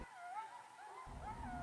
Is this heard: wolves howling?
yes